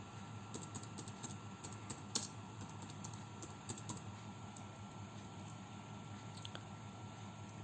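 Python code being typed on a computer keyboard, a quiet, steady run of soft key clicks with a few sharper taps, close and alone with no talking.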